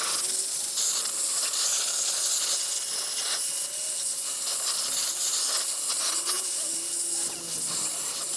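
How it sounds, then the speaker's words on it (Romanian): A hot air blower drying a car engine gives a steady, close broadband hiss of rushing air that holds level throughout with no talk over it. "O suflantă cu aer cald pentru a usca motorul în siguranță."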